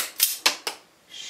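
Wire for an LED light-strip fuse in an off-grid cabin is cut, giving three sharp close snips in quick succession followed by a short soft rustle.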